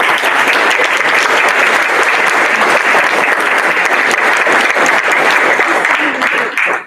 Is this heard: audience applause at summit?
yes